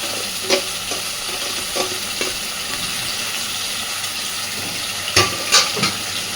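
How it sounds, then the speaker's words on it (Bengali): Paneer chaap masala being gently stirred in a pan over a medium-low flame, with a steady soft sizzle and a few scraping strokes of the spoon, the louder scrapes coming near the end. "খুব হালকা করে আস্তে আস্তে এবার নেড়ে দেব।"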